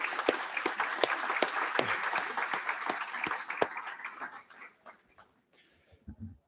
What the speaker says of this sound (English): That deserves a round of applause right there in itself.